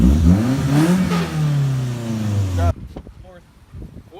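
A car engine, on a car fitted with a Euro R lip and Aspec body kit, is revved hard at full throttle, loud and close, its pitch sweeping up and falling before cutting off abruptly, with voices speaking afterward.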